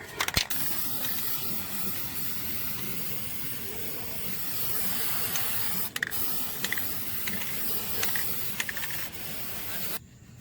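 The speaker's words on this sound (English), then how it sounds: "Rust-Oleum Rust Reformer." Rust-Oleum Rust Reformer sprays from an aerosol can onto a truck's transfer case and frame, a continuous close hiss with a few clicks and rattles near the middle and end.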